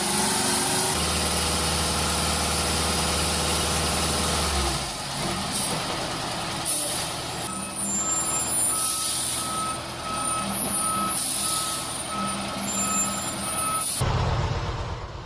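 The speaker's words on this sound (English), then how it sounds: "The truck transporting tons of wood is having a hard time getting over this steep slope." A heavy off-road truck hauling tons of wood labours up a steep slope, its engine droning steadily while reversing beeps repeat at a regular pace throughout, with a brief air-brake hiss near the end.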